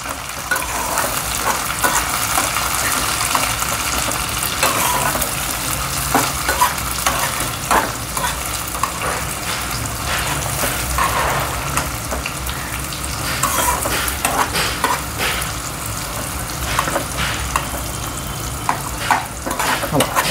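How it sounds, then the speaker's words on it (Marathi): Onion and tomato frying and being stirred in a pan, with steady sizzling and repeated scraping stir strokes running through the whole stretch, close and fairly loud, with no talking. "थोडा टोमॅटो पण चांगला शिजू द्या, मऊ होऊ द्या।"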